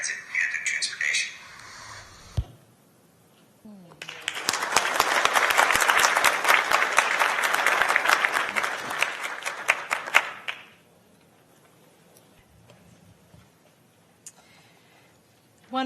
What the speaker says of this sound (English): One more big round of applause for Teresa